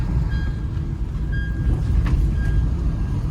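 A train rumbles steadily with deep low-frequency noise, faint high tones like wheel squeal or beeps occasionally cutting through, at Ratnagiri station, India.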